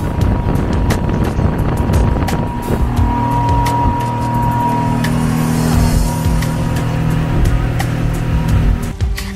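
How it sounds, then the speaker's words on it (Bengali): A boat engine drones steadily while cruising at sea near Hong and Khao Ping Kan islands, loud and close, with wind buffeting the microphone and sharp clicks scattered through. "আমরা এখন নৌকাতে আছি"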